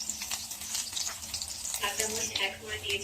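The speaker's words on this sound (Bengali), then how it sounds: "1 টেবিল চামচ সয়াবিন তেল, 1 টেবিল চামচ রসুন কুচি। রসুন কুচিগুলো একটু ভেজে নেব।" Chopped garlic sizzles in hot soybean oil in a pan on the stove, a close, busy crackle that holds steady with stirring scrapes and no voice.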